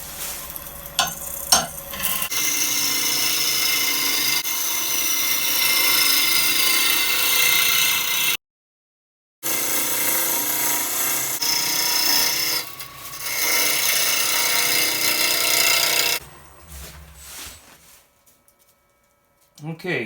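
A wood lathe turning a wild birch bowl, a loud, continuous rasping hiss of push cuts against spinning wood that runs for long stretches with a brief break, then fades out near the end.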